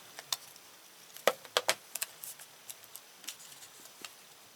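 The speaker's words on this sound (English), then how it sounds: "And then you just cut off if there's extra tape," Small scissors snipping off leftover decorative tape on a handmade doily pouch, a few sharp close clicks and snips scattered irregularly through a quiet room, with short pauses between cuts.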